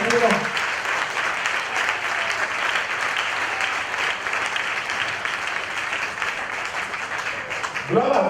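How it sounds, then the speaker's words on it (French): A church congregation applauds with dense, sustained clapping for the whole stretch, loud and close, with a voice breaking in briefly at the start and again near the end. "mais acclamez le Seigneur."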